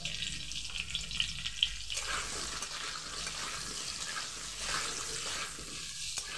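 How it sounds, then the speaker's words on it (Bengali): Potatoes frying in a pan with salt and turmeric for a ridge gourd, potato and fish curry, giving a steady broadband sizzle with brief stirring clinks, close and moderately loud, with no talk. "আলুগুলোকে আমি ভেজে নেব।"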